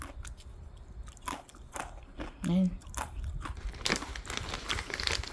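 Someone bites into and chews a crunchy, curly barbecue-flavored snack, with a series of close, crisp crunches and a bag crinkling. A brief voiced murmur is heard midway.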